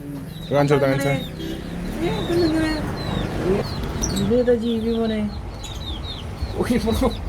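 Soft pigeon cooing calls with a few chirps and squeaks, mixed with steady talking nearby; the bird sounds come in short bursts throughout.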